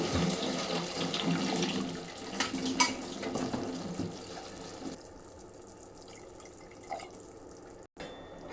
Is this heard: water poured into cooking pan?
yes